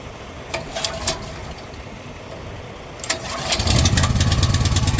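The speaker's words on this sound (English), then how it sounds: "hop up and turn on the generator if you don't have a PTO" A generator engine on a rental RGN truck starts up; a few short cranking bursts come first, then it catches at about three seconds and settles into a loud, steady running chug with no talking.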